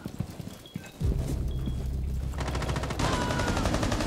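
Shotgun blast in the video game Rainbow Six Siege, one sharp shot followed by a burst of rapid gunfire and other game sounds at moderate volume, with no voices.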